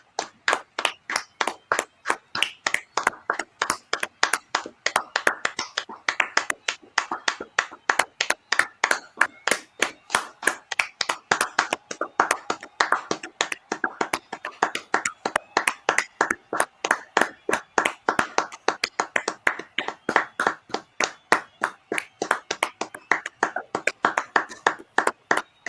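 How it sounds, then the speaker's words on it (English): Steady rhythmic applause at a Euro 2020 Denmark v Belgium football match, sharp repeated claps close to the microphone in an even beat for the whole stretch, with a broad crowd wash behind them. "we're just going to take a clap as the rest of the players do so"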